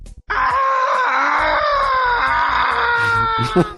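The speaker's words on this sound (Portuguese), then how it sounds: "quando você mata o inimigo, ele dá uma versão desse grito, só que mais longa" An enemy in a video game lets out a long death scream, a loud, sustained wailing cry that bends in pitch over a few seconds and is cut with brief rhythmic knocks.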